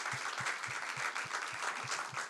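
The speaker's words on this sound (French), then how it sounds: "Est-ce qu'on peut les applaudir quand même?" A church congregation applauds during a Sunday service. The broad, steady clapping rides over a regular low thump that keeps an even beat about every quarter second.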